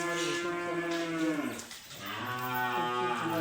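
Cows lowing in a cattle shed on a dairy farm, one long, loud, close moo bending in pitch, then a short dip and further overlapping moos filling the space with no talk.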